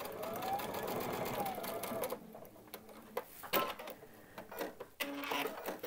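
Domestic sewing machine running short bursts of stitching, reversing to back stitch a bag seam, close and fairly quiet, with a rapid mechanical whir and clicking between brief pauses.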